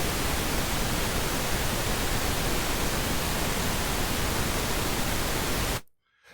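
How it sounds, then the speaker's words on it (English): Steady, dense hiss of broadband noise, loud and unchanging like rushing water, cutting off abruptly just before the end. "The pink noise to me sounds a lot more like running water or a waterfall"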